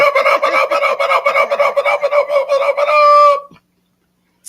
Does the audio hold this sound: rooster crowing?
yes